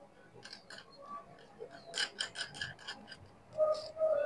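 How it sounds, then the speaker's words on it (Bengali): Nuts being threaded and tightened onto the terminals of 3.2V 100Ah battery cells, giving a run of small metallic clicks and ticks up close, quiet with a few louder taps and a faint squeak near the end. "এখন আমরা এটা ব্যাটারিগুলোতে নাটগুলো কমপ্লিট করে লাগাবো।"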